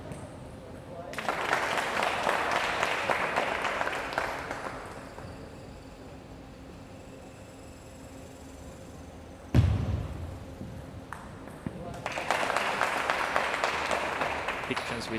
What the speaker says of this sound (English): you can see their teammates at the back cheering with every point played